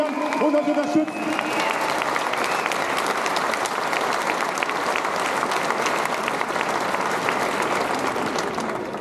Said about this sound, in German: Bitte mal einen riesigen Applaus für alle Freiwilligen